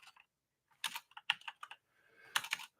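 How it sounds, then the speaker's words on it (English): Keys clatter on a computer keyboard in quiet, uneven bursts of quick taps with short pauses between them. "let's go ahead and start typing some of these areas in"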